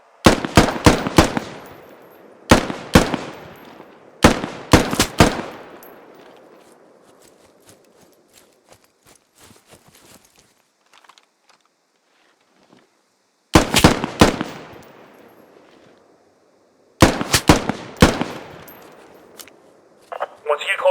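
Bursts of automatic rifle fire crack out in the PC shooter Squad, several rapid volleys of sharp shots with long echoing tails, spaced apart with quieter gaps between them.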